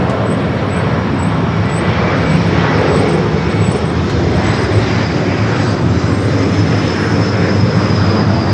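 An Air France A321neo airliner taxis toward the west gates at Los Angeles airport, a continuous broad engine rumble with a steady hiss and faint high whine, fairly loud and unbroken throughout.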